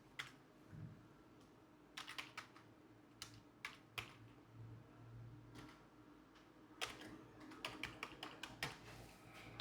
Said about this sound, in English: So let me just type in a new name.